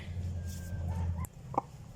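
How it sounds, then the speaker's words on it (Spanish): A hen clucks briefly near the end, with a couple of short calls over a steady low hum. "Esta es la gallina de la cual voy a hablar."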